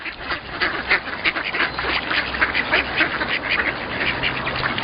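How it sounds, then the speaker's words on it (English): Ducks quack repeatedly in a lively, overlapping chorus, steady and moderately loud against a faint outdoor background. "the ducks on the village pond"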